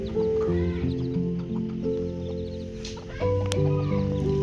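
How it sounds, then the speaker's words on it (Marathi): A mother hen clucks close by while guarding her small chicks at the Mhasa Yatra fair in Thane district, Maharashtra. Steady, busy clucking and chick peeps continue throughout with no speech. "ही कोंबडी बघा कधीही माझ्या मागे लागू शकते, कारण की आपल्या पिल्लांसोबत आहे"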